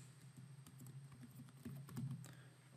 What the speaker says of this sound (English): So let's type in a name and an email address.